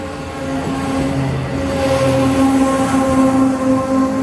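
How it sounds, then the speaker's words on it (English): A Long Island Rail Road train arrives with a steady, loud rumble and sustained tonal hum from its motors, holding close and even throughout without any talk. "here comes a train for us"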